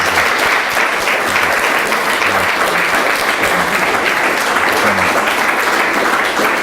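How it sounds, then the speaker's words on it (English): Sustained audience applause after a memorial conversation talk, a dense, even wash of many hands clapping at steady loudness throughout with no voices. "Can we give a round of applause?"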